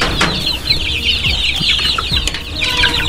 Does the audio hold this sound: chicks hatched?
yes